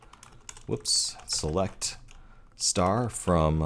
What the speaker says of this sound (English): So let's type in select